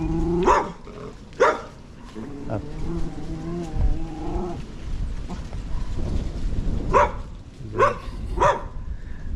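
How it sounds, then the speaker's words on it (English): Dog barking at a fence in a city tunnel area, with about five loud, sharp barks in two clusters and a quieter stretch of rumbling noise between them. "The dog is at a fence right here"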